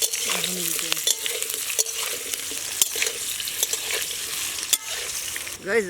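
Potatoes fried in a wok at a night picnic, crackling sizzle broken by repeated sharp scraping and clanking stirs of a metal spatula, close and uneven.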